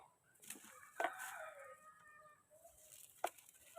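Chickens cluck and squawk close by in short bursts, with quiet pauses between calls.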